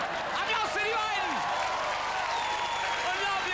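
Audience applause at a comedy festival in Arosa, a steady broadband wash of clapping filling the room, with voices and shouts mixed in over it throughout.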